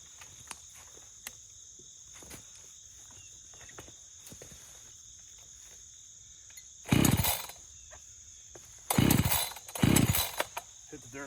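Chainsaw with a sharp chain cutting wood, heard as three short, loud bursts near the end, with crickets chirping and faint ticking in between.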